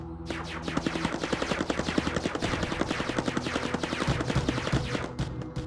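Rapid, sustained automatic gunfire from enemy units in the Mindustry V6 campaign strategy game, a steady rattling stream of shots close and loud throughout, with no talk.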